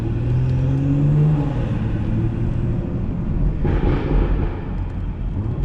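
A BMW 440 engine idles loudly and deep, a steady low rumble with a brief rise in revs early on, close to the car and with no talk over it.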